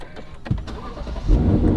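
A Lexus LC500 sports car engine cranks with a few short bursts, then catches and rumbles into a low, loud idle near the end.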